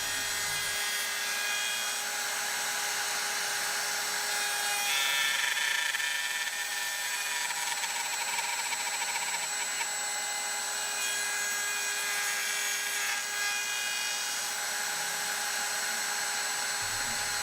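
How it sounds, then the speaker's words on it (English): A router fitted with a straight cutter bit cuts dovetail pin boards in padauk and tiger maple, a steady high whine that runs continuously and at moderate distance with faint cutting variations and no talk. "The pin boards are cut with a straight cutter, and the dovetails are cut with the dovetail shape cutting bit."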